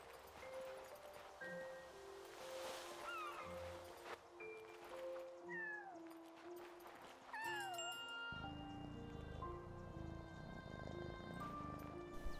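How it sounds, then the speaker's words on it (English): A cat stuck up a tree in the video game Yonder gives several high, gliding meows over steady game music and a soft ambient bed. "There's a cat in the tree."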